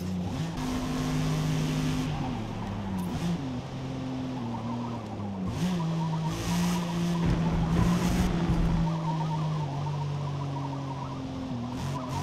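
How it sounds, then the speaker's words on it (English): A race car in the Forza Motorsport video game hums steadily through a corner, its tires squealing and skittering lightly at the grip limit while the engine pitch wavers underneath. "you can hear that slight skitter of the tires"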